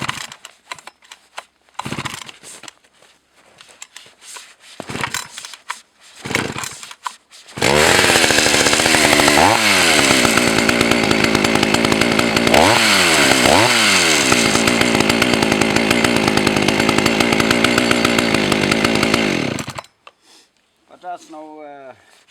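A Partner R 22 chainsaw runs loud and close for about twelve seconds, its engine revving up twice in rising sweeps before cutting off abruptly, with quieter clattering handling sounds before and after.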